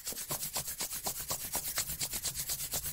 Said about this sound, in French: On frotte très fort pour avoir les mains très chaudes